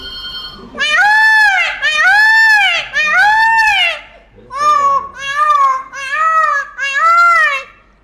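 A person imitates a peacock call: loud, nasal, rising-and-falling wails repeated in two groups of three or four, close and clear.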